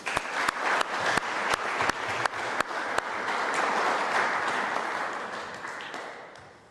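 At a public debate on secularism, a few sharp, distinct claps come first, then a roomful of hands joins into a swelling round of applause that peaks and slowly fades away.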